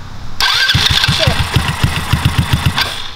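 A four-seater go-kart engine cranks and fires up, a loud close sputtering putter with a rapid even chug that settles into a steady running rhythm, with no talk over it.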